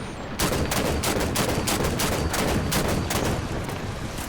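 Steady, loud gunfire in Halo 5: Guardians Warzone, rapid shots cracking in close succession for about four seconds, layered with battle noise and no talking.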